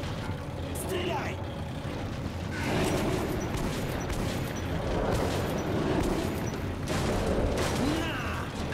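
Dense gunfire from the video game Metro Last Light Redux, with loud, continuous bursts and booms that swell around the middle and stay heavy throughout, mixed with shouting voices.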